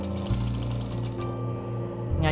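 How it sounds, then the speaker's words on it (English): A sewing machine stitches in a steady rapid rhythm, close and fairly loud, briefly changing pace before running on alone with no voices. "So I would sit underneath the sewing machine while she was working and fall asleep while I was listening to her sew."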